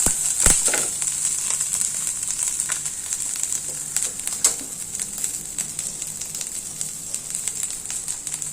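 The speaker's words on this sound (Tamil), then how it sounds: "நம்ம இந்த ஹீட்லேயே அப்படியே இந்த கருவேப்பிலை நல்லா பொரிஞ்சிடும்" Curry leaves frying in hot oil in a pan as salt goes in, a steady close sizzle with scattered crackles and pops running throughout, no voice over it.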